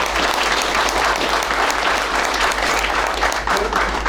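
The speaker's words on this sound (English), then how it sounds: "I want you to give them a big round of applause" People gathered at a county fiscal court meeting applaud the staff with a brisk, continuous round of clapping, fairly loud and even throughout with a low hum underneath.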